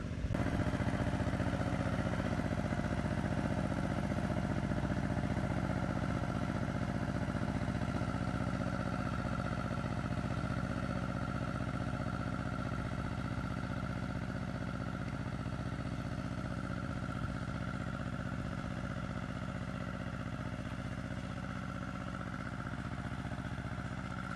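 A walk-behind motoblock tiller with a rotary cultivator tilling garden soil in autumn, its engine droning steadily and loud throughout with a faint clatter, nobody talking.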